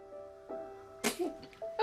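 A person sneezes once, a short sharp burst that rises over a faint steady hum, followed by brief breathy sounds nearby in a quiet indoor setting.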